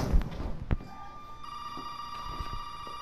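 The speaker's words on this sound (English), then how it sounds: "And now the phone rings." A telephone rings inside the Resident Evil 7 video game, a steady sustained electronic ring that starts partway through after a few thuds and footsteps, fairly close and clear with no talk over it.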